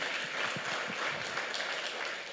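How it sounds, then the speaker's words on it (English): An audience at a real estate masterclass session claps steadily, soft and somewhat distant, a continuous wash of applause lasting a couple of seconds. "Let's give her a round of applause"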